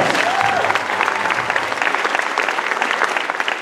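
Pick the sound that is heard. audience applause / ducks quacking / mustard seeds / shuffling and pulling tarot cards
audience applause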